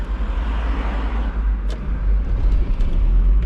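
An old car's engine running after starting, a low steady idle rumble with some fluctuation in loudness and a few faint clicks.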